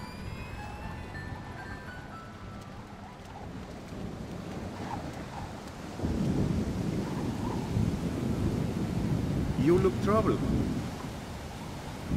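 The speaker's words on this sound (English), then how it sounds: "Thunderstorms make me nervous." A thunderstorm in the video game Splinter Cell Chaos Theory at a lighthouse, with a low rumble of thunder and rain growing louder midway under a man's spoken line.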